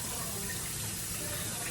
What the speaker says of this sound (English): And then I rinse it with plain water.